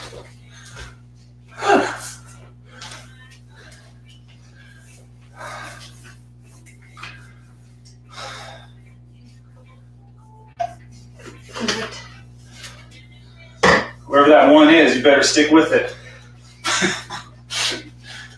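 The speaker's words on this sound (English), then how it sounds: "Oh, we're back with the sneezes again." During a yoga session, several sharp sneezes burst out among scattered speech and breathing, including a longer loud fit of sneezing and gasping in the latter part.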